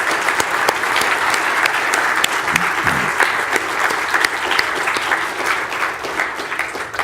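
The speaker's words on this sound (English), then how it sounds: "Let's give him a round of applause." An audience at a tech talk event gives a round of applause, dense steady clapping from many hands filling the room at moderate loudness throughout, with a brief murmur of voices partway through.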